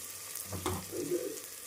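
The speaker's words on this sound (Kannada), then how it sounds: "ಈಗ ಇದು ಈರುಳ್ಳಿ ಗೋಲ್ಡನ್ ಫ್ರೈ ಆಗೋವರೆಗೂ ಚೆನ್ನಾಗಿ ಗೋಲ್ಡನ್ ಬ್ರೌನ್ ಆಗೋವರೆಗೂ ಚೆನ್ನಾಗಿ ಫ್ರೈ ಮಾಡ್ಕೋಬೇಕು." Sliced onions fry in a pan with mustard seeds, producing a close, even sizzle with a brief muffled stir in the middle.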